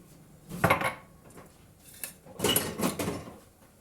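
A spoon clinks and scrapes against a bowl while food is stirred together with curry sauce, two short bursts of clattering contact separated by a pause, fairly quiet and close.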